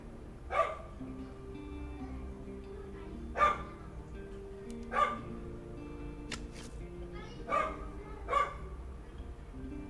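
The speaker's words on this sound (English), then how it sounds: "My dog doesn't want to shut up." A dog barks in short, separate bursts, about six over ten seconds and spaced a couple of seconds apart, at moderate loudness above a steady low hum.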